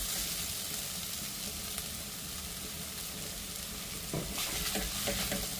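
Fresh cashew nuts being stir-fried in ground masala paste, a steady close sizzle with a few soft scraping stirs near the end, no voices.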